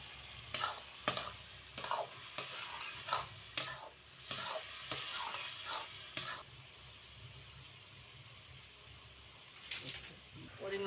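Ginger and cumin stirred into ash gourd in a pan, with a run of sharp scraping stirs and a soft sizzle underneath, then quieter frying with a few more scrapes near the end.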